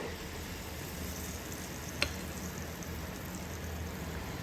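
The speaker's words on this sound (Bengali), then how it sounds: "এভাবে আমি সবগুলো মালপোয়াকে ভেজে নেব।" Mango and chhena malpua fry in hot oil, a steady soft sizzle running without pause, with a single faint clink partway through and no talking.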